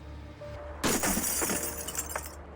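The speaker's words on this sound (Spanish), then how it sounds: "utilizaron la poderosa garra del robot para romper el vidrio" A robot's claw smashes a darkened window pane: a sudden loud shatter of breaking glass, followed by about two seconds of crunching, tinkling shards.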